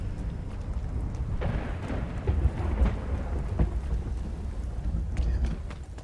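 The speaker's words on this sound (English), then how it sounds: "the storm's coming in" Thunderstorm in The Cycle: Frontier video game, steady heavy rain hiss under low rolling thunder rumbles and scattered sharp drips or cracks, loud and continuous with no talking.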